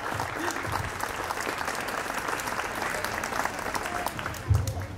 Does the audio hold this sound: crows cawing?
no